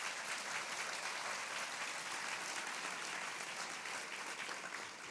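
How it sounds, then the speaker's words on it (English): An audience at an annual depression center luncheon applauds, sustained clapping from a large room that stays steady for several seconds before easing slightly at the end. "just give that group collectively a round of applause as well for their help"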